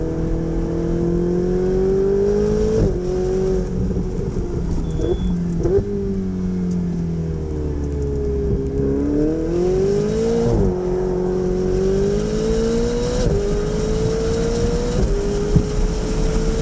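A 2018 Gintani-tuned Ferrari 488 Spyder accelerates hard on a track at Arizona Motorsport. Its engine note climbs repeatedly, with several sharp breaks between gear changes, and stays loud and close the whole time.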